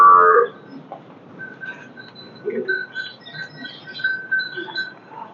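Cattle at a cow shelter give a short, loud, close moo at the start, followed by quieter scattered animal sounds and faint squeaks over a low ambient hum.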